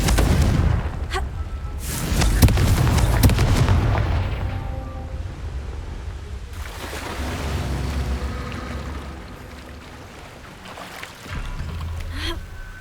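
Confringo blasting-spell explosions in the Hogwarts Legacy video game, several booming blasts with rushing roars and crackle, loud then fading into a quieter rumble before another burst near the end.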